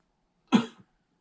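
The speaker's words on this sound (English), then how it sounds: "by asking you to cough" One short, sharp cough, close and clear, followed by silence.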